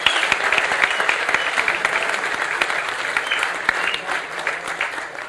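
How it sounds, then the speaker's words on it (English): Steady crowd applause fills a racing festival venue, dense clapping continuing throughout at a lively, fairly loud level with a few cheers mixed in. "That's probably worth a round of applause, too."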